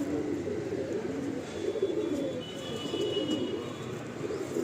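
A breeding pair of pigeons in a home loft give soft, low cooing that rolls on steadily and close, a warm murmuring throb with no pauses.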